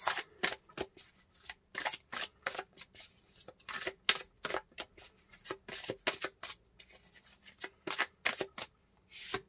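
Tarot cards are shuffled over and over in quick, crisp riffling bursts, close and fairly quiet, with short pauses between the shuffles.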